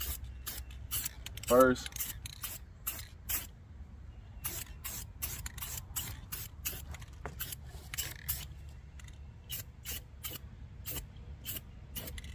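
An aerosol spray can hisses in short, evenly spaced bursts as a light dust coat of paint goes onto a 406 small-block Chevy engine outdoors, with a brief spoken word near the start.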